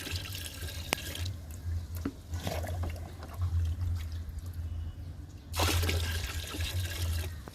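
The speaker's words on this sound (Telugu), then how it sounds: "ఈ బకెట్లో కూడా 2 మగ్గులు పోసానండి వేపాకు లిక్విడ్ని." Neem leaf liquid is poured from a mug into a bucket, a close, splashing gush at the start and another near the end, with quieter trickling and drips in between.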